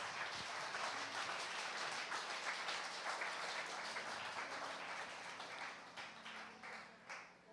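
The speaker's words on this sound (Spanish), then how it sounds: "Den un aplauso al Señor." Church congregation in Ciudad Madero, Mexico, applauding: sustained dense clapping from a crowd, fairly faint and distant, tapering toward the end.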